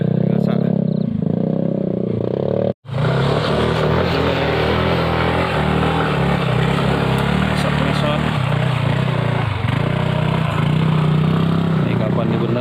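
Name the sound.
motorcycles passing on a road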